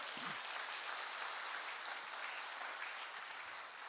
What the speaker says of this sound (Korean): 박수로 하나님께 영광.